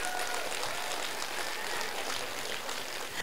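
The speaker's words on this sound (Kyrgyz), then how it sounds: "Андыктан жалпы номер 2ге катуура кол чаап койбойсуздарбы?" Audience applause fills a concert hall at a children's studio concert, a dense, steady wash of clapping that holds at even loudness throughout with no voices over it.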